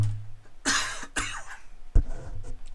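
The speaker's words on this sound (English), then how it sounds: "I haven't had to cough all day, now all of a sudden I do." A person coughs several times in short bursts, close and fairly loud, with a brief throat-clearing quality and pauses between the coughs.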